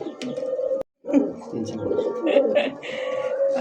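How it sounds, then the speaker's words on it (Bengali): A pair of black Potter pigeons coo close by, a steady low throbbing murmur that breaks off briefly and then resumes. "দেন ব্ল্যাক কুচকুচে একজোড়া পটার কবুতর ভাই, অনেক দিন পরে পাইলাম"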